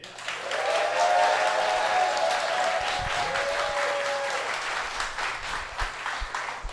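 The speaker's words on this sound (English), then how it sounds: "let's hear the sound of applause" Live-show audience applauding steadily for several seconds, a dense wash of clapping with a whistle-like tone sliding through the middle, tapering slightly toward the end.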